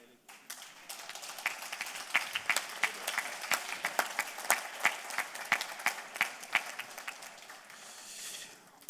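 A congress audience applauds in a standing ovation during an opening ceremony in Lausanne, with dense, sustained clapping and sharper individual claps throughout that thin out near the end.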